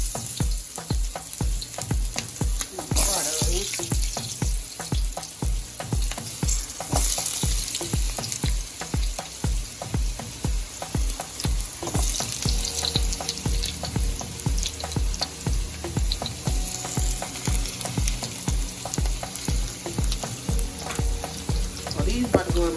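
Potatoes frying in a home skillet, a steady loud sizzle and crackle with regular scraping and stirring strokes throughout, heard close up and without speech.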